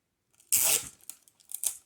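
A strip of sellotape rips off the roll in one sharp, loud tear, followed by a few quieter crinkles and a second short rip, close up in a quiet room.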